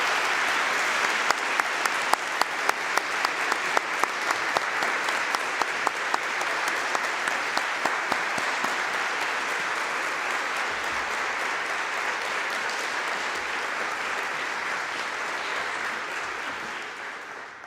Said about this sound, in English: Please join me in a round of applause recognizing the